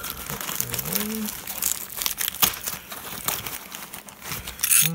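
Crinkling plastic packaging of a parcel holding a crimping plier and terminals, rustling and crackling continuously and close up, with a few sharper crunches and no talk.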